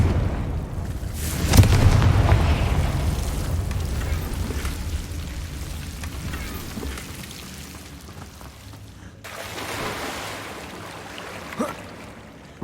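A Confringo fire spell blasts in Hogwarts Legacy with a loud booming burst near the start, then a long rumbling, crackling decay and a second softer blast later, with no talk.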